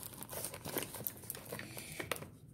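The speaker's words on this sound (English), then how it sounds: "Let me take off the tape first" Packing tape crinkles and tears as it is peeled off the box of a Motorola V360 phone, a quick run of close crackling rips, fairly faint and alone.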